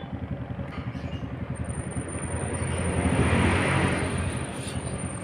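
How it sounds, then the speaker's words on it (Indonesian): A twin-tub washing machine's spin dryer runs with a steady motor hum and rumble that rises a little midway, loud and close, with no talking. "Ini mesin jalan dengan bagus ini."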